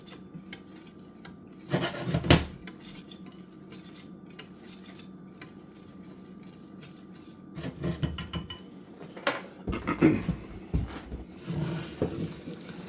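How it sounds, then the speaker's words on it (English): Dry ingredients for vanilla wafers mixed by hand in a bowl, with scraping and clinking of a utensil against the bowl in a few bursts separated by quieter stretches. "Then I'm just going to incorporate my dry ingredients"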